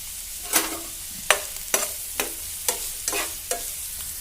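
Chopped onion going into a hot pan for an aloo matar paratha filling, with about seven sharp scraping stirs at a steady rhythm over a soft, quiet sizzle.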